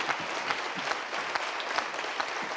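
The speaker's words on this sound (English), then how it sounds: "Can I just ask one even louder clapping of the hands for Eva" A summit audience at the European Business and Nature Summit claps in a dense, even roar of many hands, steady and fairly soft throughout with scattered louder claps.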